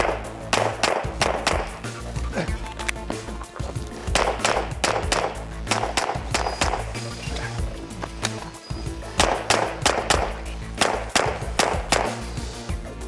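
Glock pistol fired through a practice course of fire, with strings of sharp, rapid shots coming in several quick bursts separated by short pauses, over a steady musical background.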